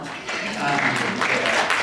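Audience at a professional senate meeting breaking into applause, a burst of clapping that starts after a brief pause and builds into steady, moderately loud hand claps from a room full of people.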